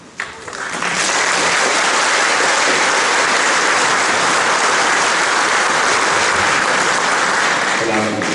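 Loud, steady audience applause fills a hall during a talk, rising quickly and holding at an even roar for several seconds without a break.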